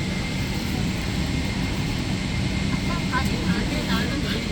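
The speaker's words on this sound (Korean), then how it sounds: "비행기 이륙할 때, 그치?" A Korean Air airliner taking off, heard from inside the cabin: a steady, loud broadband engine and airflow roar that fills the whole clip without pause.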